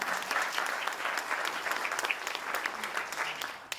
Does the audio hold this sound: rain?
no